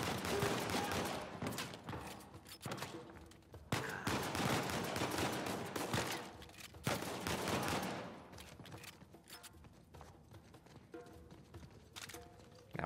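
Shotgun fire in Uncharted 4 rings out as a series of sharp, loud blasts scattered across a noisy firefight, with clattering action sounds between the bursts and no voices.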